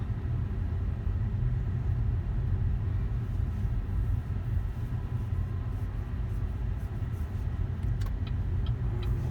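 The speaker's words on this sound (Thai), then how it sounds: "อัตราเร่ง สุดยอด" An electric car, a premium-trim model, accelerates hard, heard from inside as a steady, loud low rumble of road and motor noise with faint high whine, continuous throughout.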